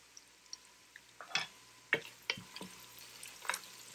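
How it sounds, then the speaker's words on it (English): Onions frying in a pan with a little salt: faint steady sizzle under sharp clicks and scrapes of stirring, with no talk. "it's much quicker for the onions to fry"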